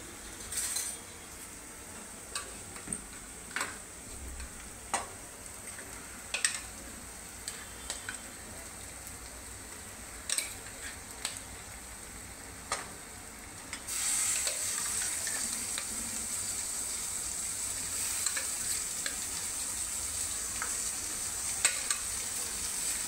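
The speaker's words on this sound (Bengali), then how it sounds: "একটু ভাজা ভাজা হয়ে গেছে, এখন আমি এই ম্যারিনেট করা চিকেনটা দিয়ে দেবো।" Marinated chicken, cut into very small pieces, sizzles in a pan for chicken panteras while a spoon clinks and scrapes as it is stirred. The frying hiss swells noticeably louder partway through.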